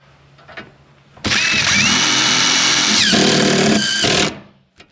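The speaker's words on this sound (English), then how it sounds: "We'll put a screw into that, and we should be ready to go." A power drill whines at full speed for about three seconds as it drives a screw into a Qual-Craft staging bracket leg, loud and close, with small pitch shifts as the screw bites.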